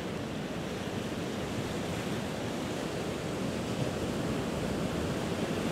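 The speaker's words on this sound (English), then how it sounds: "Another wave hits the beach" Ocean waves wash steadily onto a beach at sunset, a continuous broadband surf roar with no distinct breaks, fairly close and even in loudness.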